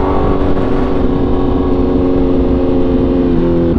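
A Honda CBR1000RR motorcycle cruises along with a loud, steady engine drone and a wind-buffeted roar, its pitch holding fairly even with a slight shift near the end.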